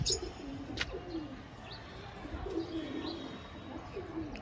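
Chinia homer pigeons coo softly in low, rolling phrases, a few separate bursts across a quiet room-tone background, with faint higher chirps now and then.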